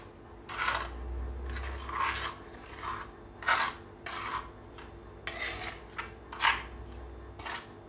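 A pot of Kerala-style sardine curry being stirred, with repeated soft rasping scrapes of a spoon against the pot in an uneven rhythm, quiet and close with no talking.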